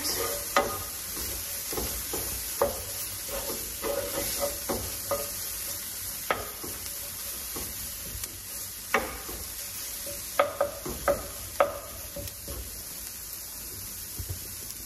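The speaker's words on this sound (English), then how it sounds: "we're gonna just stir that in, get it nice and fragrant" Cumin being stirred into pork sizzling in a pan: a continuous hiss of frying with intermittent spoon scrapes and clicks against the pan, fairly close.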